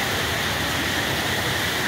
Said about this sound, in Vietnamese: Nghe tiếng róc rách róc rách.